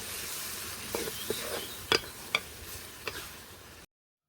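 Dal curry (parippu) being stirred in a pan on the stove, with a soft background sizzle broken by a few sharp clicks and scrapes of the spoon against the pan, quiet and close.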